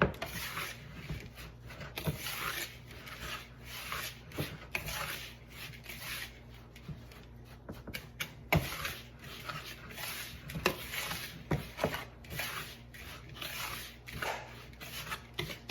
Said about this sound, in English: I'm just going to give it a quick whisk to mix everything together